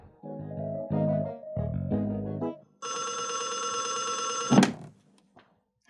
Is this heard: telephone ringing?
yes